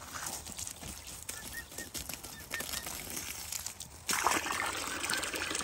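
Water trickles and splashes steadily into an emu water trough outdoors, with a louder gush near the end and faint bird sounds in the background.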